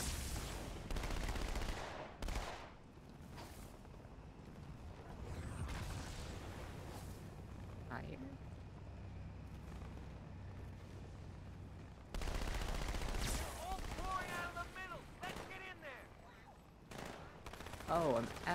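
Halo gunfire rattles through most of the stretch in loud bursts and sustained volleys, with heavier blasts around the start and middle, while a player talks over the action.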